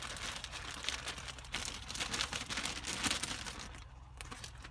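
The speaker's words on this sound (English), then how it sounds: "place your seed in your plastic bag." Plastic bag crinkling softly up close as seed is placed inside, a faint run of irregular crackles and rustles.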